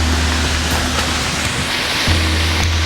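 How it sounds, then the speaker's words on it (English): A second Icelandic waterfall near Reykjavik, one you can walk behind, pouring down in a loud, continuous roar of rushing water with a deep rumble underneath, steady throughout and close to the listener. "we have our second waterfall coming down right now"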